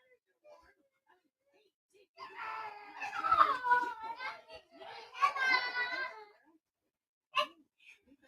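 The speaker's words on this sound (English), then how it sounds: "I need you to stop running around and screaming." Young girls run around indoors, screaming and shrieking in two long excited bursts and then a short sharp cry, close by, with quiet gaps between.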